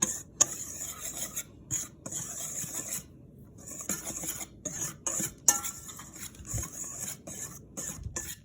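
Dry ingredients, sifted flour and salt, being whisked in a bowl for chewy chocolate butternut crinkles: soft, repeated scraping and rasping strokes with light clinks, fairly close and quiet, with short pauses between bursts.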